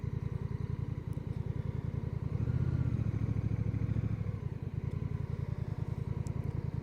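A 2025 Honda Rebel 1100T DCT motorcycle engine runs steadily nearby with a rapid low putter, rising in pitch and loudness midway as it revs through a gear change, then settling again.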